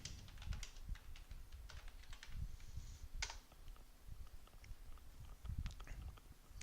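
Typing on a computer keyboard, entering a search for an XAMPP download for Windows: faint, quick irregular key clicks in short bursts over a low room hum, with no talking.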